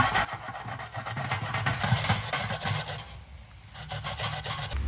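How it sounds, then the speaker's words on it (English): Young roots being grated by hand to draw out starch, giving a steady, close rasping scrape with repeated strokes that continue throughout without pause. "Here I am ready to grate these."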